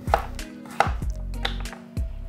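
Pumpkin is cut into small cubes with a kitchen knife for risotto: a few crisp, close thuds of the blade on a cutting board, spaced unevenly, each followed by a brief faint scrape, with no talking.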